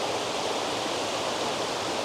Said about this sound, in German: Dieser kleine Bach hier, das ist die Gose. Der fließt einmal quer durch Goslar.